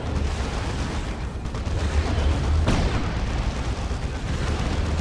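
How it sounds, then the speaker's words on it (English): A Basilisk flare shell fires in the Warhammer strategy game Dawn of War 2: Retribution during a 1v1 match: a sustained, loud rumbling barrage with a sharper burst midway, over dense battle noise and no speech. "There's a Basilisk Flare shell from the Commissar."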